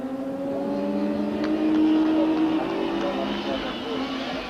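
Opel and Ford Mondeo touring cars race around Kyalami in a 1995 Super Touring round, engines droning steadily with a swelling mid-clip pass, heard under continuous commentary.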